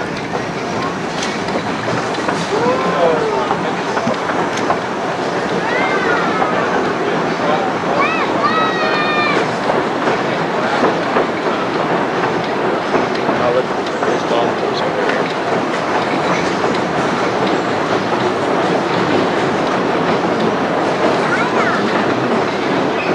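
A passenger train crosses the 35-foot-high Hahakea Trestle on Maui, with a loud, continuous rumble and clickety-clack of the wheels over the rails for the whole stretch, with occasional squealing tones above it.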